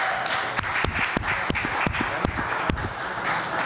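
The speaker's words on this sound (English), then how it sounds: "Give yourself a round of applause." Applause from an audience at a Supercross post-race press conference for the 250SX class in Anaheim, a steady wash of clapping with a few sharper claps standing out, moderately loud throughout.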